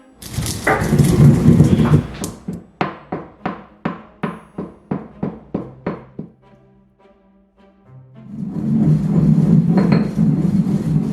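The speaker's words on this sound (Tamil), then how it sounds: "இந்த வாசத்துக்கு வறுத்து வச்சதை இந்த ஸ்பைசஸ் இதுக்கு உரலில் போட்டு இடிச்செடுக்கணும்" Roasted spices are pounded in an ural mortar for curry roti: a run of about a dozen evenly spaced, crisp thuds comes in the middle, bracketed by rougher grinding and clattering noise.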